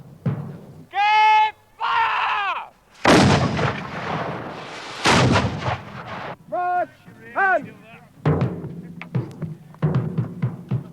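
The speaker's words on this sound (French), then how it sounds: "les canons donnent le signal de la bataille" Cannons fire to open the 1645 Battle of Naseby. Several heavy, booming blasts come at irregular intervals, mixed with bleating, voice-like cries and battle clamour.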